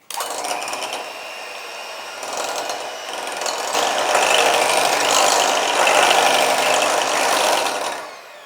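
A mixer churns fruit with artificial sugar, a loud steady mechanical whir that builds in intensity over several seconds before cutting off abruptly at the end.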